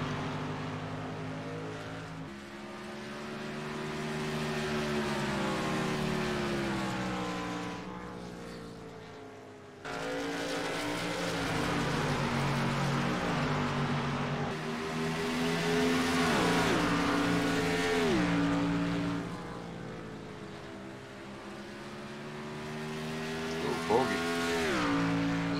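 Race cars roar past at New Hampshire, engine notes rising and falling as they sweep by in waves, with loud passes separated by brief dips and a pitch shift as cars pull away; a commentator talks over much of it.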